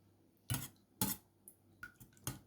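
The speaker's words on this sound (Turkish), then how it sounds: "Bu şekilde çırpalım" Yogurt being whisked in a bowl for a sauce over dry yufka pastry: four or five sharp clinks of a whisk or spoon against the bowl, spaced about half a second apart, close by with no voices.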